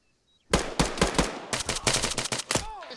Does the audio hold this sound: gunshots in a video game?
yes